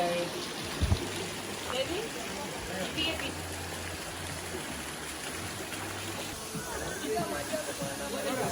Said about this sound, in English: So finally guys, this is the main waterfall.